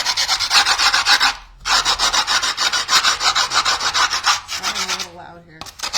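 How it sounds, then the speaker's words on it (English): A recycled Phillips screwdriver scores a PAL board in steady, loud, rhythmic rasping strokes, close up, with a brief pause near the middle and a short break before a final stroke. "Just start with scoring. with the recycled Phillips screwdriver."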